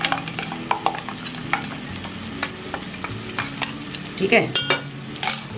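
Ground coconut and poppy seed masala stirred and frying in a pan for chicken korma, a steady sizzle broken by scraping spoon strokes and metal clinks against the pot, with a brief spoken word.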